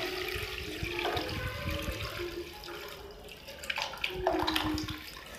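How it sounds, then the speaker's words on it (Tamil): Tamarind water for pepper rasam is poured into a pan in a home kitchen, a soft, continuous splashing pour lasting a few seconds and heard close up, with no talking. "இப்போ நம்ம கரைச்சி வச்சுருக்க புளி தண்ணியை சேர்த்துக்கலாம்"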